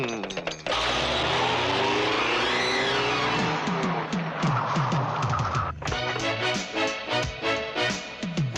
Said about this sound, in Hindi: हम अपने सुमन बिटिया को गाड़ी में बिठाकर बंदर के पास लेकर जाएंगे